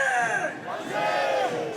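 Crowd of white-clad citizens carrying torches shouting manse cheers together at a nighttime independence movement reenactment in Dangjin, a loud sustained chorus of voices rising and falling throughout.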